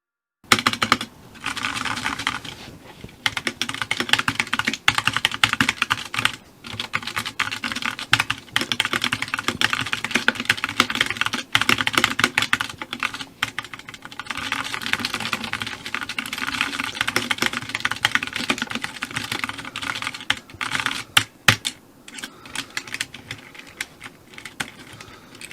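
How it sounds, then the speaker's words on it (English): Typing on a deliberately terrible homemade keyboard. Rapid, irregular clacking keystrokes with a rattly, hollow character come up close and continue almost unbroken for about 25 seconds. "This is the worst keyboard I can build."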